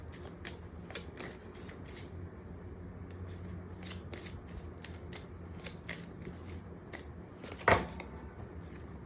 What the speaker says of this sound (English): I'll be pulling out 2 cards from the Romance Angel Oracles